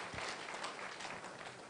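An audience at a political tour gathering in Nadowli claps together in a sustained, dense burst of applause, heard at a moderate distance without talk over it.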